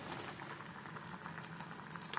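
Pot of broad beans boiling on a stove, a faint continuous bubbling and pattering simmer with no voices.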